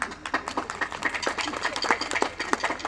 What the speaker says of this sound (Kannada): ಯಾರೆಲ್ಲ ನನ್ನ ಪ್ರವೇಶಕ್ಕೆ ಚಪ್ಪಾಳೆ ಹಾಕಿದ್ದಾರೆ